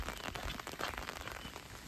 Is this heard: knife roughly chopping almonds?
no